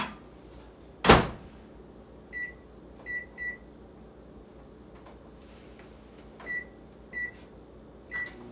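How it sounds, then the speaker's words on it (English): Microwave oven heating chocolate on medium power for a minute, a steady low hum with a loud clunk near the start and several short, faint clicks or ticks spaced through the run. "We're going to put it in the microwave for 1 minute on medium,"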